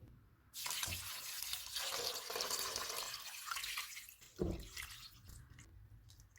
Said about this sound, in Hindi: 7 गिलास पानी डालेंगे।